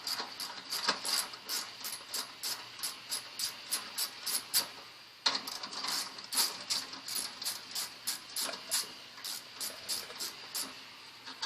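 A ratchet wrench undoes bolts on a Victory Cross Country police motorcycle saddlebag guard, in close, rhythmic bursts of rapid clicking with a brief pause midway.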